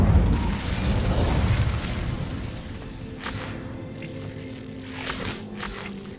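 Incendio fire spell in Hogwarts Legacy, a loud fiery burst up front that decays into a low rumbling tail, with a few smaller pops and mechanical clicks after it.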